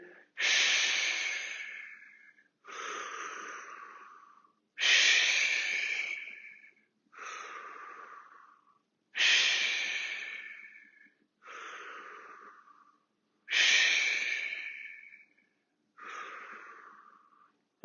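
Heavy, rhythmic breathing during a fitness class exercise, eight strong breaths in a steady cycle, each a loud, close, airy rush that fades out before the next.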